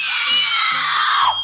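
A young girl screams indoors in a long, sustained, shrill cry that barely wavers, close and loud, trailing off at the end while a faint low voice murmurs beneath it.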